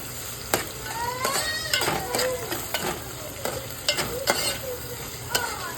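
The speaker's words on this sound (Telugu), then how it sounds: "ఉల్లిపాయలు అయితే వేగిపోయాయండి" Onions frying in a pan for an egg and broad bean curry, a bright continuous sizzle broken by sharp, repeated spatula scrapes and taps against the pan, close and loud, no talking.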